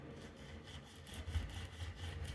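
Sandpaper rubbing lightly across guitar fret ends, a soft, close, dry scratching in short strokes that grows slightly louder toward the end.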